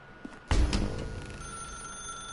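A telephone starts ringing in The Stanley Parable video game, a sudden bright ring with a steady tone that lingers and fades over a couple of seconds, heard alone without talk.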